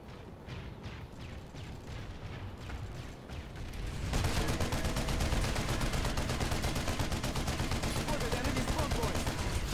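Gunfire in PlanetSide 2: rapid sustained shooting that begins moderately loud and steps up into a dense, continuous heavy barrage, with voices talking over it.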